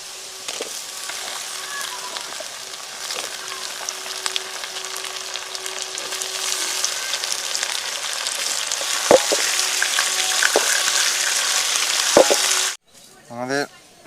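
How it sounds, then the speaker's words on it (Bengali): Potatoes are frying in mustard oil after onions, a steady, close hiss and crackle with occasional stirring knocks that stops suddenly near the end, where a voice briefly takes over. "পেঁয়াজ ভাজা হয়ে গেছে, এবারে আলুগুলো তুলে দেবো।"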